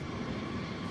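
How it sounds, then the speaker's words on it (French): Engines of a B-52 Stratofortress long-range strategic bomber give a steady, dense roar, loud and continuous for under a second with no pauses. "l'ancêtre de tous les bombardiers stratégiques longue portée, le B-52 Stratofortress"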